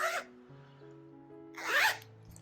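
A zipper for a crochet bag is pulled in two quick, close rasping strokes, one at the start and a longer one near the end, with a quiet steady hum between them.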